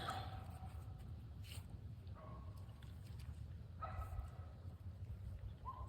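A dog barks a few times far off, faint and intermittent against a low background rumble.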